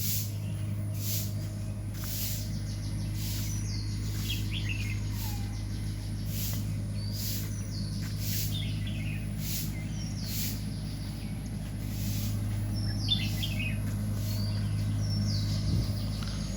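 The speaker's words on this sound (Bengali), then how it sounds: "পাখির কিচিরমিচির আওয়াজ" Birds chirp at dawn around a resort in Rangamati, with scattered short calls and twitters rising over a constant low hum and soft background hiss.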